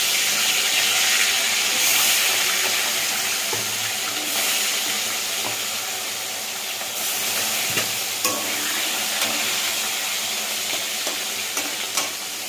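Fish frying in hot oil in a wok, a steady loud broadband sizzle that runs throughout without pause.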